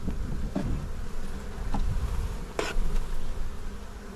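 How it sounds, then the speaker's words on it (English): A dense, continuous buzzing of a bee swarm in a hive box close by, steady and loud throughout, with a few faint knocks. "Ton of bees in the box."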